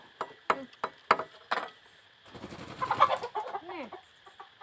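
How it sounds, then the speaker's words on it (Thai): A chicken clucks in a rural outdoor setting near a Thai mushroom forage, a run of short sharp clucks followed by a busier stretch of cackling, fairly close and mostly alone. "ไก่นี่ไก่อยากไข่"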